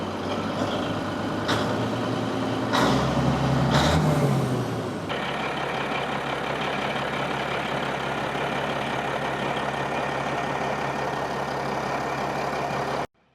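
Caterpillar SS250 soil stabilizer engine running at slight throttle, a loud steady diesel roar with a brief rise and change in pitch early on, then settling into a constant drone before cutting off at the end.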